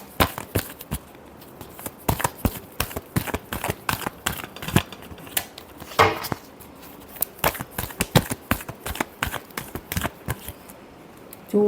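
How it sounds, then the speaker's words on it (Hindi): Tarot cards are shuffled by hand in a quiet room, a rapid series of sharp, close riffling snaps and flicks in uneven bursts, with short pauses between them. "last shuffle"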